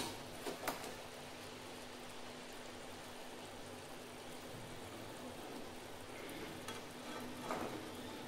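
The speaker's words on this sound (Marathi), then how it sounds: "मग त्याला छान उकळ आलेली आहे." Sugar syrup for boondi ladoo boils in a pan, giving a steady bubbling, sizzling hiss with a low constant hum and a few soft clinks, no talk.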